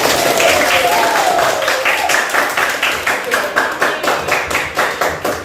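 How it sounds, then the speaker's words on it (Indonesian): A classroom of students clapping hands, starting as a loud mixed burst with voices over it, then settling into a rhythmic unison beat of evenly spaced claps toward the end. "Tepuk tangan kita semua"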